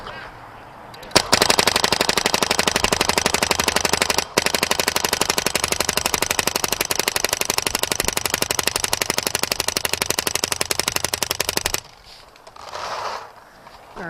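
An Angel Fly Joy Division paintball gun firing a long, rapid, evenly spaced burst of shots for about ten seconds, loud and close, with a brief pause partway, then stopping.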